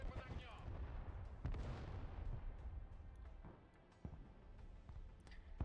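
Tank and artillery fire in the war video game Broken Arrow, with heavy booming shots and rumbling blasts rolling through a dense battle mix at moderate level, some sharper cracks, and a voice partly mixed in.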